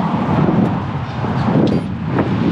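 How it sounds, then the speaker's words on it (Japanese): Strong gusty wind ahead of an approaching typhoon buffets an outdoor action camera, a loud steady roar and rumble of wind noise against the microphone throughout, with no talking. "風が強いな。 台風が来てるからか、"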